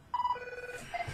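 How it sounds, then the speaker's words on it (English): A telephone rings with an incoming call, a clear electronic tone with a few short repeated bursts, loud and close, with no talk over it. "I'm getting a phone call, and I'm going to mute it."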